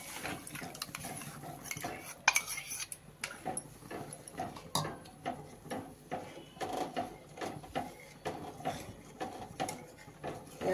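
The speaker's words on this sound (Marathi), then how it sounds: "आता आपण टाकू यामध्ये वरण।" Cooked dal being added to sautéed greens in a pan and stirred, with repeated metal spoon scrapes and clinks against the pan in a steady rhythm, close and fairly quiet.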